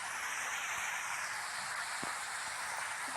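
Steady rain in Bus Simulator Indonesia, a continuous even hiss of falling drops that runs unbroken through the whole stretch with no talking over it.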